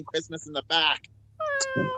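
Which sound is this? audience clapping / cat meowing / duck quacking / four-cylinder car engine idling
cat meowing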